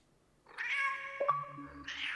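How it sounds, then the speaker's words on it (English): A cat meows as a sound effect in a spooky radio-style game show, a single long drawn-out meow that is loud and close, with a few soft tonal background sounds and no talking. "I'm merely demonstrating that this shows the cat's meow"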